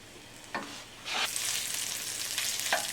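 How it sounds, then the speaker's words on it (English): Bacon sautéing in a pan: a crackling sizzle that swells louder after a second and holds steady, with a few spatula scrapes on top, close and fairly loud, no talking. "Saute the bacon off a little bit"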